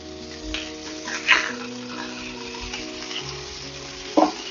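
Cheeseburger patties fry in a pan with a strong, steady sizzle, broken by two sharp spatula scrapes as they are flipped, close and loud with no talk.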